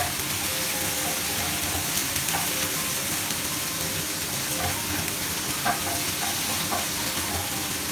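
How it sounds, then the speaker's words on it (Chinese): Sugar snap peas stir-fried with minced garlic in a wok over high heat, a steady loud sizzle and crackle running throughout with occasional scraping stirs. "倒入甜豆，旺火翻炒约2分钟"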